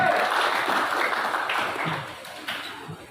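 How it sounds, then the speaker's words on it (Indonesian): An audience at a farmers' seminar on oil palm applauds in agreement, a brief, moderately loud burst of clapping that tapers off within a few seconds. "Tepuk tangan dulu kalau setuju"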